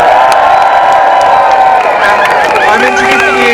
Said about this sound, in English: Can I just have a massive cheer to all you lovely people for coming today?